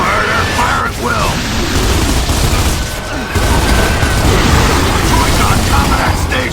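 Sustained heavy gunfire and booming explosions from the Gears of War 2 battle at a roadblock on the town perimeter, loud and continuous with dense bursts throughout.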